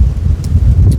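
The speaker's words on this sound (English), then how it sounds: "Very windy today." Low blustery wind buffets the microphone in rough, steady gusts, loud and close, with a faint higher hiss briefly breaking through.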